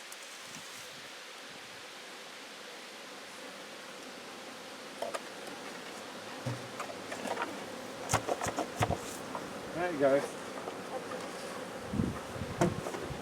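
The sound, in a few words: honey bees buzzing at hive with feeder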